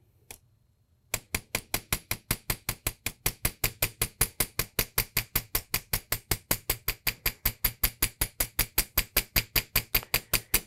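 Steady, even hammer strikes ring out on metal while the centre of a gemstone earring blank is textured, dozens of sharp close blows in a quick regular rhythm after a brief quiet start, with no talking.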